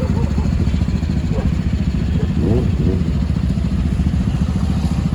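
Superbike motorcycles idle and rumble together at the entry gate of CK Birla Hospital, a dense, loud, steady low engine drone with voices talking over it.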